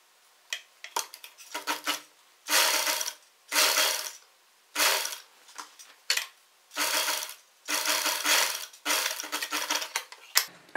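Sewing machine stitching a fabric strip onto the back panel of a long side-slit kurti, running in repeated short bursts of rapid mechanical clatter separated by brief pauses, close and fairly loud with no talking.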